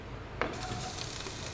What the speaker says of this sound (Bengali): এগুলো বাটারের মধ্যে দেবো হচ্ছে রসুন কুচি